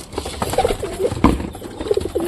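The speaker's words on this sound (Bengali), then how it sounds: "সব কবুতর খুব সুন্দরভাবে খাচ্ছে।" Pigeons coo softly while feeding, with low, warbling calls repeating in short phrases among scattered pecking taps and small movement sounds, close and moderately loud.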